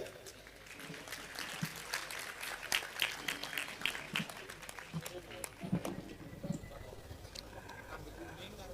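Scattered, modest clapping from an audience at a gathering as people are called forward, uneven and fairly faint, with chatter and speech mixed in underneath.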